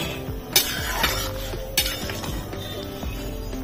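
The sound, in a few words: opening the lid of a pot of boiled peas and chickpeas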